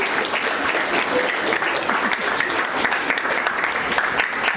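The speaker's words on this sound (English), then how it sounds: "A big round of applause for them." Steady, dense applause from a school audience honoring students at a quarterly awards ceremony. The clapping is loud and continuous throughout, with no pauses.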